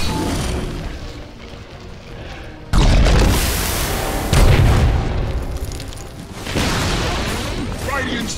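Radiant's top tower in Dota 2 falls to attack, marked by a sudden heavy crash and rumbling booms, then a second impact and a later burst of crumbling debris over the game's background din.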